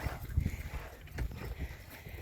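Horses shifting and stepping nearby during grooming, with soft hoof clops and low rustling movement throughout, no one speaking.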